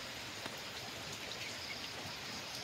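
Steady rain falls without pause in Agusan del Sur, a soft even hiss of drops on surfaces at moderate distance with no clear individual impacts, unbroken by any voice.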